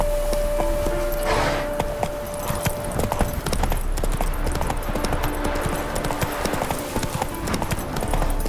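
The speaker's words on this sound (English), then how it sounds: "Whoa there, Roach" Horse hooves clip-clopping steadily in The Witcher 3, a close, continuous rhythmic trot over ambient game sound, with a faint spoken voice.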